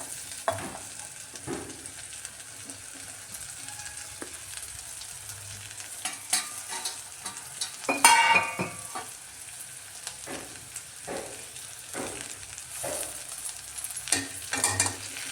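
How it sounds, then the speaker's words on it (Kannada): Previously fried okra tossed and stirred in a hot pan, with steady close sizzling and frying crackle, spoon scrapes and stirring clatter throughout, and a louder burst of sizzle and clinks midway. "ಈಗ ನಾನು ಫ್ರೈ ಮಾಡಿದ ಬೆಂಡೆಕಾಯಿ ಹಾಕ್ತೇನೆ."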